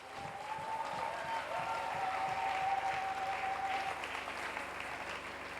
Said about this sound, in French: est-ce que tu peux acclamer pour Jésus?